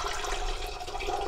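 Water poured from a tap into a cooking pot, a steady rushing splash lasting about a second, close and fairly loud with no talk.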